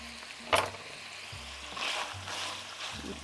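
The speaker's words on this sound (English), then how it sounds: "we're going to add some minced garlic" Minced garlic sizzles quietly in a hot pan for a broccoli and sausage weeknight dinner, a soft continuous fry with one sharp scrape near the start, low hum in the background, no talking.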